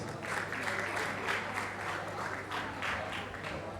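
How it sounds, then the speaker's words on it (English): An audience applauds itself at an ICC gathering with Bolaji Isreal, a steady wash of clapping from many hands over a low hum, with faint voices mixed in. "Let's give ourselves a round of applause."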